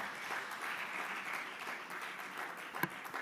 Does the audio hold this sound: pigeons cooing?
no